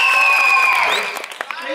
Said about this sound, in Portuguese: Palmas para Juliana.